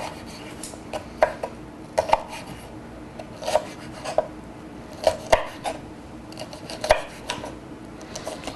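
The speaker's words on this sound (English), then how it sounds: "now we're going to turn them this way and give them a nice little chop" A knife chopping pepper on a cutting board, sharp irregular knocks in quick clusters over about eight seconds, close and clear with faint background hiss.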